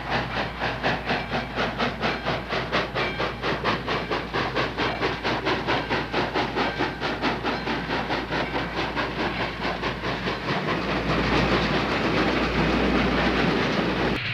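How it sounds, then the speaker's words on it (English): Reading Company train rolling behind a Baldwin diesel locomotive: a steady clickety-clack of wheels over rail joints in fast, even rhythm, with a low diesel rumble and hiss that swell louder and closer near the end. "Running behind a Baldwin diesel."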